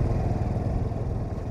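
A Honda CT 125 motorcycle with a high-level exhaust runs steadily at low revs, giving a deep, rumbling, throaty putter that stays close and continuous, with no talking over it.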